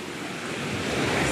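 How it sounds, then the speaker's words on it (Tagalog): Ocean waves wash continuously onto a beach in Glan, Sarangani Province, a loud close broadband rush with wind noise and a swell building toward the end. "Kanindot sa balod."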